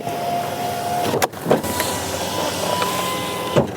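Power window motors whirring in a diesel Swift Dzire, with a few short clicks and thumps as the glass stops, recorded close inside the car with no talking.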